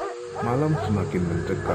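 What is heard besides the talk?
dog barking loudly, cartoon sound effect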